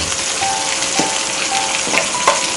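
Mushrooms sizzle steadily in a hot pan, a dense, even frying hiss with a few soft stirring knocks and clinks near the middle and end.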